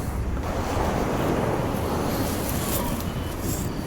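Wind roars at a solo campsite in heavy rain, a loud continuous broadband rush buffeting the microphone with no pauses.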